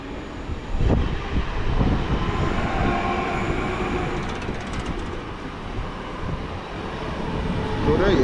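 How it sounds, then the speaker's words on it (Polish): A PESA Elf electric multiple unit on the airport service to Modlin passes on the S4 line in Warsaw, a loud sustained rumble with rhythmic wheel clatter over rail joints close by. "a tym razem mamy Elfa z pociągiem lotniskowym"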